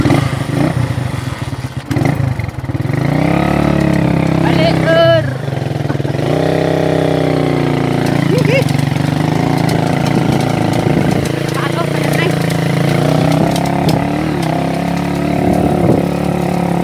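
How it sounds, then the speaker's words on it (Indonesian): A motor scooter engine idles steadily close by in a rural outdoor setting, a continuous low rumble lasting throughout, with voices talking over it. "Ana suara motor."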